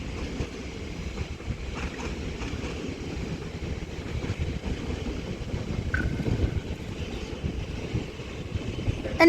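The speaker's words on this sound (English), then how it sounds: "departing over here is a South Western Railway Class 458, the doubled up South Western Railway Class 458, heading off to London Waterloo" A doubled-up South Western Railway Class 458 electric train pulls out of Reading station toward London Waterloo, giving a low rolling rumble and wheel noise that swells slightly mid-way, moderately close, with no talking.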